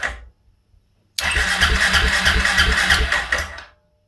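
A Suzuki KingQuad ATV engine with a fuel filter just replaced cranks for about two and a half seconds without catching: a close, loud, rhythmic chugging of the starter that then cuts off, with no voices.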